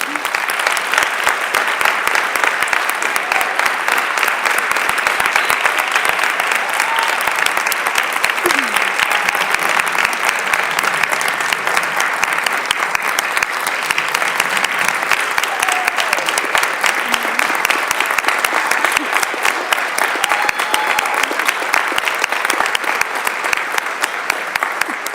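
Continuous applause fills a school board meeting room as students are honored, a dense, steady round of clapping from the audience lasting the whole stretch without letting up, with faint voices mixed in.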